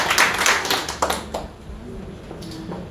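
Scattered hand claps from a church congregation ring out in a loose cluster of sharp taps, then thin out into a murmuring room.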